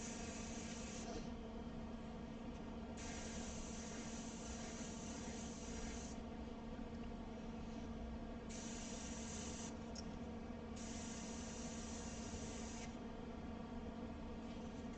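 A continuous airbrush hiss runs the whole time, its brighter high edge switching on and off in uneven bursts as the trigger is worked.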